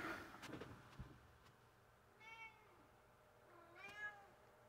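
A cat lets out two distinct meows, spaced apart, quiet and close in an otherwise still indoor room, after a few soft clicks and thumps.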